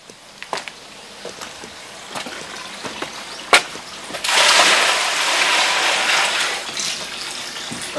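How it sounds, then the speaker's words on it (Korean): Water splashing and running during an elderly mother's bath at home, a broad steady wash of spray rising midway and continuing, with scattered knocks and splashes before it. "오늘은 어머니를 목욕시키는 날"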